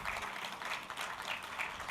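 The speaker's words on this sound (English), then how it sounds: "A round of applause." A short burst of audience applause at a data protection summit closing ceremony, a moderate, even patter of many hands clapping with no talking over it.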